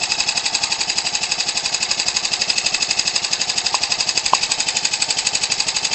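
A Ryobi 29cc four-stroke R/C aircraft engine idles steadily, giving a loud, rapid, even chugging pulse that holds unchanged for the whole stretch, with a couple of faint clicks and no voices.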